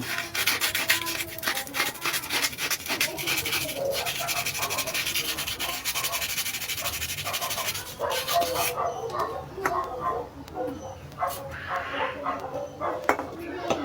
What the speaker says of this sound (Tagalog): gagamit tayo ng pinong pinong liha